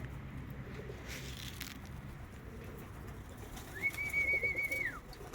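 German Viennese pigeons at a racing pigeon loft give soft, low cooing against quiet outdoor background noise, with a brief wing flutter and one clearer, louder call near the end.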